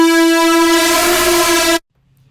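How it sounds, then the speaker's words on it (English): A cinematic synth sound from a Performer 2 synthesizer rings out as one loud, bright, harmonically rich sustained tone that holds steady for under two seconds, then cuts off abruptly into near silence. "Performer 2 sounds like this."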